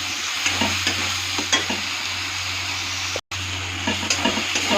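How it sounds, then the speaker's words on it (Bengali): Ginger, cumin and garlic spice paste fries in a pan, a constant close sizzle broken by repeated scraping stirs, with one brief dropout partway through. "মশলাটা ভাজা ভাজা হয়ে গেছে"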